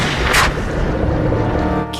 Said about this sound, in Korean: 의사가 나타나 총을 쏘고